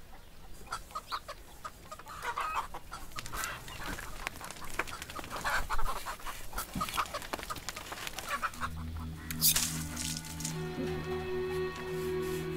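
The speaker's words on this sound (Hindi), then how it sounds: "मुर्गी है, उसे जरा काट दो तुम।" A chicken clucks in short repeated calls close by. A steady droning tone joins in during the final few seconds.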